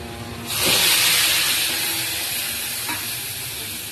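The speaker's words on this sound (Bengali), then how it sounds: "এবার মশলাটা কিন্তু তেলের মধ্যে দিয়ে দেবো।" A spice paste goes into hot oil in a kadai, with cardamom and bay leaf already in it for a besan dhokar dalna; a loud hiss bursts up and then settles into a steady sizzle.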